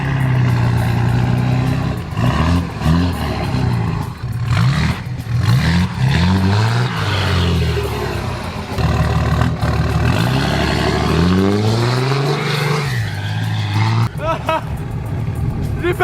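Vehicle engine with big twin exhaust pipes revving hard, loud and close with rising and falling throttle sweeps and a rumbling idle between, voices talking over it.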